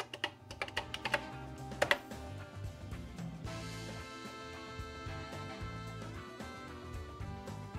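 Keys clack on a Commodore SuperPET keyboard, a quick burst of sharp taps close up, then fading under a steady musical background.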